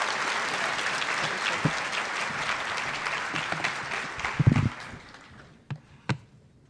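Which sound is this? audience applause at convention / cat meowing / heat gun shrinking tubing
audience applause at convention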